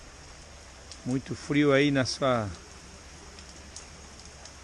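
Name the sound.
rain falling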